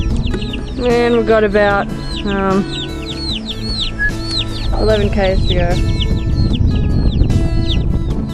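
Several small chickens cluck and crow close by in a loud, busy run of calls, with a voice speaking briefly over them.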